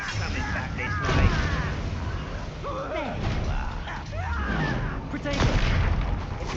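Bombarda blasting spells go off in Hogwarts Legacy combat, a run of booming magical explosions with crackling bursts spread across the fight, mixed with game music and a voice talking throughout.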